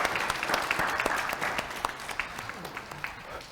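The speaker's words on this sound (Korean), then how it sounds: "우리 주일학교 학생들이 제일 먼저 박수를 해요" Sunday school children and a church congregation clap at an Easter service, a busy patter of applause that thins toward the end into scattered individual claps, with some voices mixed in.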